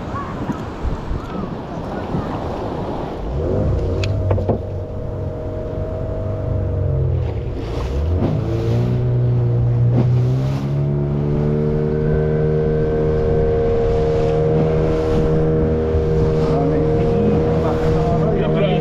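A small boat's motor drones steadily on the sea, its pitch climbing as it revs up, with wind buffeting the microphone and faint voices underneath.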